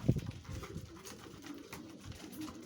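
Pigeons coo softly in a loft, a low, faint, continuous murmuring burble with a slightly louder note at the start, heard alone without talking.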